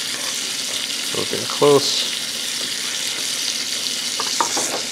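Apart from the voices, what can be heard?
scallops frying and being stirred in a pan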